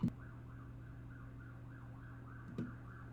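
A faint ambulance siren in RuneScape 3 wails in a repeating rising and falling tone, steady and distant, with two short thuds at the start and near the end.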